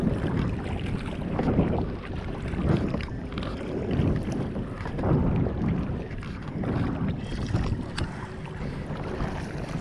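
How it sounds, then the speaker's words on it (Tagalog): Strong cold northeast wind buffeting the microphone while fishing for bighead carp from a small boat, heavy low rumbling gusts rising and falling continuously with faint water movement beneath, no talking. "Lakas ng hangin mga bro."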